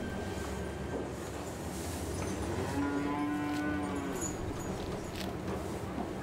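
A cow on an Alpine farm in Bavaria gives a single drawn-out moo in the middle, quite faint and somewhat distant over a steady broad background rumble, with no speech.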